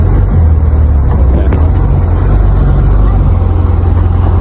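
A motorboat drones loudly and steadily close by near Maya port, with heavy wind buffeting and water rushing underneath throughout.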